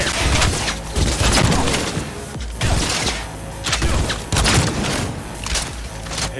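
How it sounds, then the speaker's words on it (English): Enemy gunfire erupts in the Cyberpunk 2077 video game as loud, dense bursts of automatic shots that come in repeated volleys with short gaps between them. "All units report. Opening fire."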